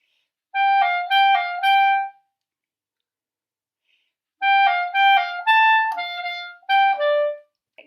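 A clarinet plays a short passage of clear, separate notes pitched an octave higher, with a phrase, a pause of a few seconds, then a longer phrase, played alone and close.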